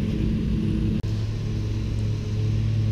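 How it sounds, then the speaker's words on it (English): Lawn mower engines drone steadily in the background, a low continuous rumble with a momentary dropout near the start. "So if you hear mowers in the background"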